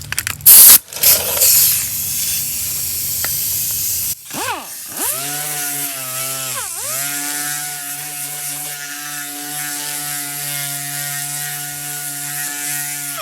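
An air-driven dual-action sander with 80-grit paper works on the body of a Porsche 914. A few sharp knocks come first, then the tool spins up with a steady, loud, close whirring tone that dips once and holds.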